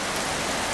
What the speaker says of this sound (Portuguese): Chuva caindo em João Pinheiro neste momento